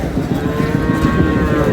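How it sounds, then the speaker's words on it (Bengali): A Sahiwal bull calf moos in a long, steady, fairly loud call at a cattle farm in Faridpur, where a group of young Sahiwal bulls is kept for sale. "শাহিওয়ালের ষাঁড়"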